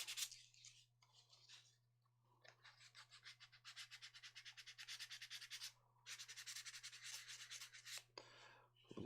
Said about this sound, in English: I'm just going to sand it down